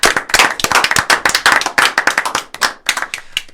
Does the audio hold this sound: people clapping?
yes